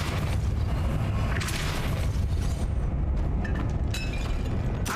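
The Depulso spell is cast in Hogwarts Legacy, a booming blast with a burst of crackling magical energy that rolls over constant loud game ambience, followed by a few fainter bright pops.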